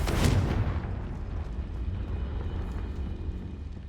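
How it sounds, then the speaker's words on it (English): Blasting spell explosions from the video game Hogwarts Legacy: a heavy boom bursts near the start, then a long rumbling tail fades out under continuous low noise. "Bombarder! Confringo!"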